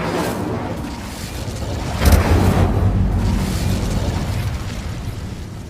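The Incendio fire spell goes off in the Hogwarts Legacy video game, a single sudden fiery burst that flares and then rolls into a sustained whooshing rumble that slowly fades.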